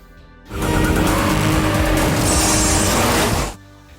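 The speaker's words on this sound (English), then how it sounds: "A car crashes during a high-speed police chase." Car racing through a high-speed police chase in a movie, a loud roaring rush with tire noise that swells suddenly, holds for about three seconds, then cuts off.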